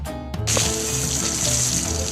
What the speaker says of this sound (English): helps them wash with clean water